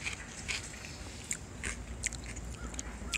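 Crunchy tater tots with nacho cheese being bitten and chewed close to the mic at a burger spot in Munising, Michigan, giving several sharp crisp crunches spread over a few seconds with no talk.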